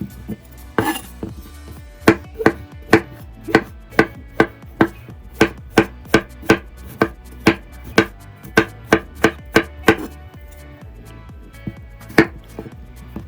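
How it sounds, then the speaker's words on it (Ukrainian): A knife finely chops mushrooms for a savory lavash layer cake, producing rapid, loud, evenly spaced knocks on the cutting board that continue for a long stretch with no voices. "Гриби я попередньо помила, а зараз нарізати їх дрібно"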